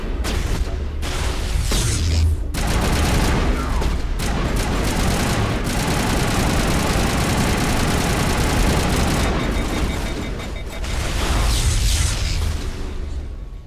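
Sustained loud gunfire from the Mass Effect video game, dense rapid bursts and booming blasts running almost continuously for many seconds, briefly thinning in the middle before the firing resumes at full intensity.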